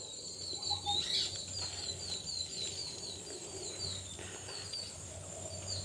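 Small birds chirp and tweet in quick, repeated high notes over a soft, steady outdoor background, fairly close and continuing throughout.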